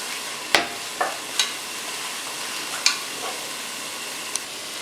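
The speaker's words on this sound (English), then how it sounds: "We can put our Italian sausage and ground meat in our big pot right here." Italian sausage and ground meat dropping into a big cooking pot, a few sharp sizzling bursts and spoon stirs spaced out over a steady background hiss, close and fairly loud, without speech.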